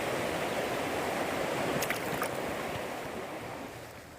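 Flowing water of the Smith River trout stream, a steady close rush of broadband babbling that holds evenly and fades slightly toward the end, with no voices.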